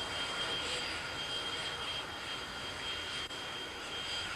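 A fixed-wing airplane rolls slowly across an airfield toward its final stopping spot, its engines producing a loud, steady roar with a constant whine and no clear change in pitch.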